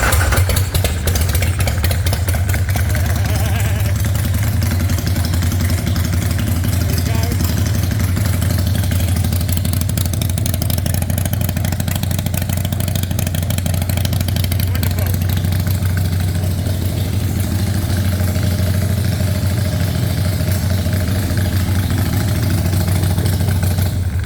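A handmade Harley chopper motorcycle engine runs loud and steady at idle throughout, a deep continuous rumble with a low throbbing pulse, while someone talks over it now and then.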